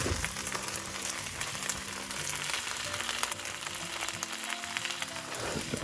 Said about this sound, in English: we're just going to stir fry the vegetables until they become a little bit soft